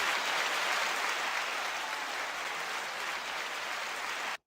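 A steady, even wash of applause that is smooth and hiss-like at low level, sustained without break, then cutting off abruptly at the end.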